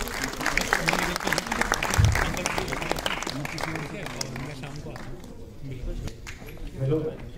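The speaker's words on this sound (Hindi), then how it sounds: "जोरदार तालियां हो जाएगा" Crowd applause at a live comedy stage show rolls on steadily for several seconds with voices talking over the clapping throughout.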